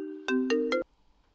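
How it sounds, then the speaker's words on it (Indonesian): Mobile phone ringtone for an incoming call: three bright, loud melodic tone bursts in quick succession over a soft sustained tone, then dropping to near silence. "Telepon Xiaomei"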